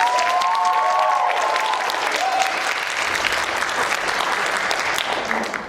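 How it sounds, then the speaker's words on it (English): A full audience applauds student poets at a school poetry slam, steady dense clapping filling the room from start to finish, with a few whoops near the start. "can we please give them all one round of applause?"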